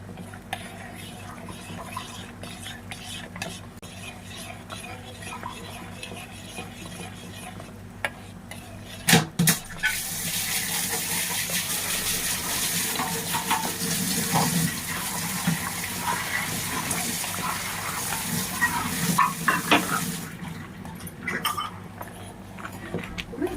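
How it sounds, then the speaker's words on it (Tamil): A spoon stirs a neem soap mixture in a container until it dissolves, with clinking and scraping at first, then a steady, watery swishing that carries on for over ten seconds; no talking. "அது கலக்கி கொடுப்போம்."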